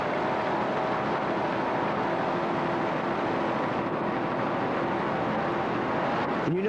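Constant roaring drone of an offshore racing powerboat running at around 78 mph in a 1986 regatta, steady and unbroken for the whole stretch, heard from a distance with wind noise.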